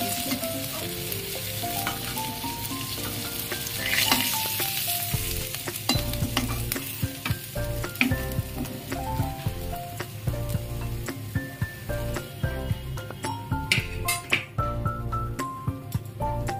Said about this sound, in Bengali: মাছগুলো কড়া করে ভাজা হয়ে গেছে, এবার কড়াই থেকে একটু তুলে নিচ্ছি।